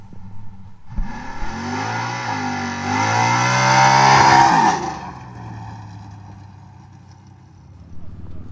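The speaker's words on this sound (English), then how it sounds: "They got it pulled out, did some long smoky burnouts for us." A Copo Camaro doing a long smoky burnout, its engine rising to a loud sustained roar with screeching tire spin that holds for several seconds before dropping back to idle, heard nearby at an outdoor cruise-in.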